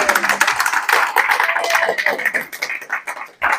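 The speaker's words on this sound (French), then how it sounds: "Et vous pouvez l'applaudir" Church congregation at an evangelical service clapping in a dense, fairly loud burst of applause that thins out toward the end, with voices mixed in.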